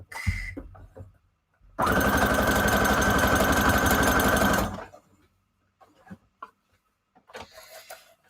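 A sewing machine stitches rows across a scrap-fabric junk journal cover in one steady, loud burst of rapid mechanical whirring lasting about three seconds, with quieter handling clatter before and after.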